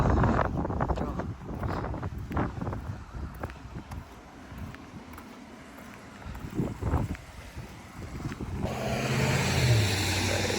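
Strong wind buffets the microphone in loud gusts outside a store amid snow in the United States, with some distant voices and rumbling underneath.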